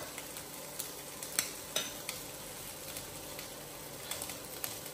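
Shrimp, chicken and salami stir-fry in a wok under a soft, steady sizzle, with scattered clinks and scrapes of a utensil against the metal as the food is tossed.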